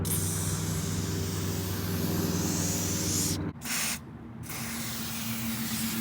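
Quick bursts of aerosol spray hiss into the window channel of a Wanderlodge bus, a loud steady jet that breaks off briefly and then resumes, close to the microphone, with no talking.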